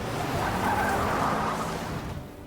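In a film, a car speeds off with loud skidding, squealing tires over an engine roar that holds steady for about two seconds before fading abruptly.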